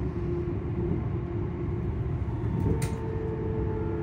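Steady low rumble and hum of a ScotRail Class 385 electric train's traction motor, heard close from inside the carriage, with a continuous drone and a brief higher whine near the end.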